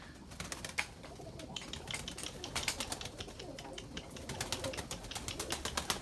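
White Erzurum pigeons in a coop, with faint soft cooing and rustling under a dense patter of quick tapping and scratching, fairly distant and low in level throughout.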